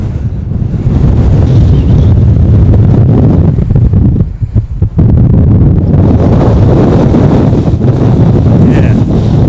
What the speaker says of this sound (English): pretty much right on the top of the hill now, as you can probably hear by the wind